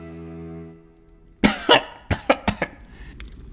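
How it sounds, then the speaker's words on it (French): An old man coughs in a run of harsh, close bursts, two heavy coughs followed by four shorter ones, after a low steady hum fades out. "votre toux m'inquiète"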